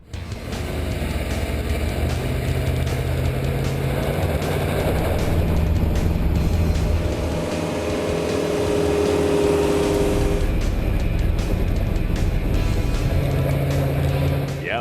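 Truck with a recycled 5.7L Hemi engine pulling a sled in four-wheel drive, a loud continuous engine drone with rumbling load and shifting pitch throughout, heard from nearby.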